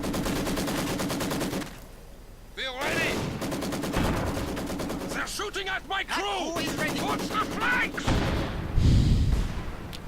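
MG42 machine gun and mortar fire in a World War II real-time strategy game, rapid bursts and thumping impacts layered in a busy battle mix, with a commentator talking over it.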